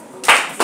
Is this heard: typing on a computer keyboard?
no